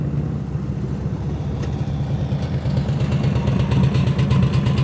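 A motorcycle engine runs during slow-speed riding practice, its whole engine shaking, producing a steady, loud low rumble with a pulsing throb that builds slightly toward the end, with no voices.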